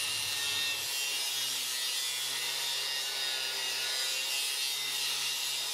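A car catalytic converter is cut open with a power cutting tool, making a loud, continuous, harsh grinding rasp that runs steadily for several seconds with a low motor drone underneath.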